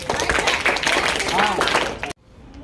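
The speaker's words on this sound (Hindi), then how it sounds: "ताली बजाइए सब लोग।" Audience applause breaks out after a child's poem recital at a school program, a dense wash of hand claps mixed with voices, cutting off abruptly.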